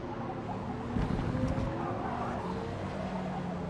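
A 1000bhp Toyota Supra race car in Forza Motorsport brakes hard, its engine note dropping through downshifts while tires squeal briefly under a steady mechanical roar.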